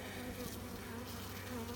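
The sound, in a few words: honeybees buzzing on a hive frame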